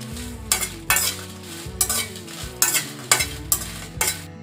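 Six dried red chillies roast in a dry pan for Andhra-style paruppu podi, stirred so the spoon scrapes and clatters in repeated sharp bursts over a low background hum, no talking.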